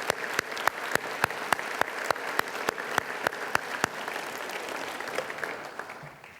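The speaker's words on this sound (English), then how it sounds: "So please give a warm round of applause." Steady applause from a gathered audience at a university address, with a few sharp, evenly spaced claps standing out above the rest.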